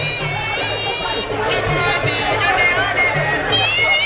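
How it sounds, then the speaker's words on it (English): A large, lively football crowd at Serekunda East Mini Stadium keeps up a steady hubbub of chatter and shouts, with whistles and calls rising above it throughout. "it is a huge and entertaining crowd"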